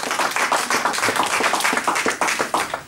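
A church congregation claps loudly and steadily, a thick wash of close applause with pulsing surges and a few sharper claps near the end.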